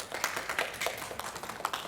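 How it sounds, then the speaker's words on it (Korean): Scattered, faint claps from a church congregation welcoming a deacon back to a Presbyterian Sunday service, sparse and uneven rather than a full ovation. "우리 환영의 박수 한번 보여줍시다."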